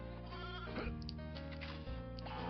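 Sheep bleating in the Nintendo 64 game Toy Story 2, a few short bleats layered over continuous game music and effects, fairly quiet overall.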